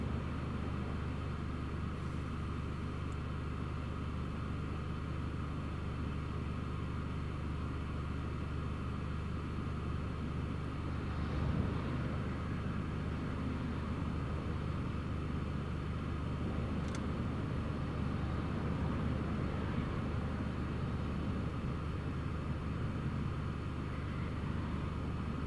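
An EasyJet airliner landing at Newcastle Airport during Storm Eowyn, heard as a steady low engine rumble blended with heavy wind noise throughout, distant and continuous with no clear peak.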